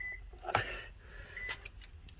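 A key fob programmer pairing a car key gives a faint short electronic beep, then a second brief tone, amid some handling clicks and low background rumble.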